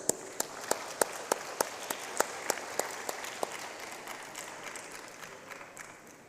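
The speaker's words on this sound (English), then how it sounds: "Big applause, please." Conference audience applauding at a fairly low level, with a few sharp, spaced claps standing out near the start over a soft wash of clapping that thins out toward the end.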